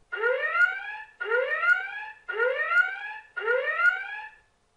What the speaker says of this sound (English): the audible alarm has gone off